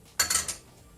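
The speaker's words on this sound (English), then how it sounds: "I'm going to put on a frying pan." A metal frying pan is set down on a kitchen stove while ramen is being made, giving a brief, close clatter of a few quick clinks and then quiet.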